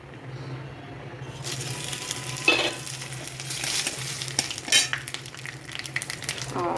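Cumin seeds, bay leaf and dried chilli tempering in hot oil, a loud continuous sizzle and crackle with bursts of stirring and scraping from a utensil against the pan.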